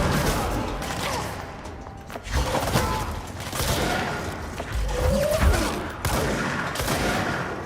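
Grenade launcher blasts in a multiplayer shooter video game: repeated thudding booms and gunfire-like bursts recur through a dense, continuous battle din, with a faint voice now and then.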